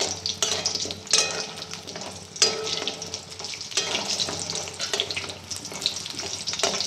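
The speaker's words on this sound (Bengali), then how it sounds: "বড়িগুলো একটু লাল লাল করে ভেজে আমি তুলে নেব" Lentil dumplings (bori) frying in oil for a rohu fish curry, a steady crackling sizzle with occasional stirring clatter and sharper pops, close and continuous without any talk.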